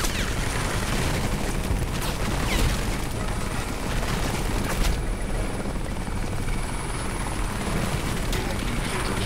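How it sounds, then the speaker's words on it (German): A helicopter in the video game Crysis thunders steadily and close throughout, its dense rotor roar joined by bursts of gunfire and occasional booms during a firefight. "Der Hubschrauber ist wieder einer unserer Probleme."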